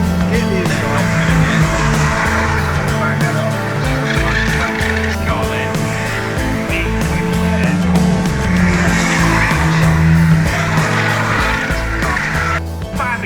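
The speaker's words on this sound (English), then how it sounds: "There's Adam Blair flying around in the IP racing car in 11th place, fastest man out on the track by some margin." An EnduroKA race car laps Cadwell Park during a six-hour endurance race, with a steady, loud engine roar that shifts pitch through gear changes and throttle as the car passes.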